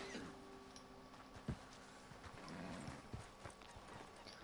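A horse's hooves clip-clop steadily on the ground in Red Dead Redemption 2, a quiet, even trotting rhythm with occasional louder hoof strikes and faint background ambience.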